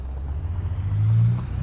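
Truck engine in Euro Truck Simulator 2, a low steady diesel rumble swelling briefly louder as it pulls, heard alone without talk.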